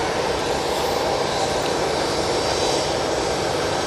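A Ryanair airliner's engines roar steadily at Manchester Airport, a broad, constant rush of jet noise that holds at an even, fairly loud level without a break.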